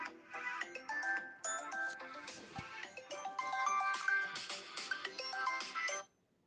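Electronic phone ringtones play in a continuous, busy stream of melodic beeps during a spoken religious discourse, with overlapping tones suggesting two phones ringing at once. They stay moderately loud and steady for about six seconds, then cut off abruptly.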